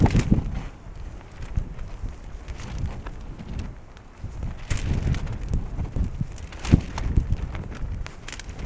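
Strong gusty wind at a campsite in Scotland buffets and roars continuously, with rumbling low noise and occasional sharp flaps and knocks, no voices.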